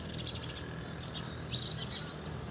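Small birds chirp faintly at a bird house on a rural farm plot in the morning, a few brief tweets scattered over a steady low outdoor hum, with a louder cluster near the end.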